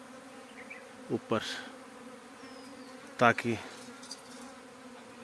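Honey bees buzz near a hive box in a soft, steady hum, with a few brief louder buzzes as bees pass close, under quiet speech.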